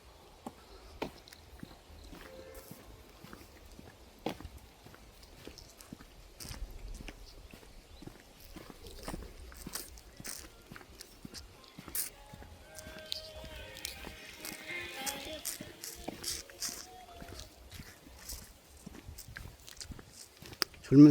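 Food torn off with the teeth is chewed close up: soft irregular crunches and smacks come and go over about twenty seconds in a quiet room.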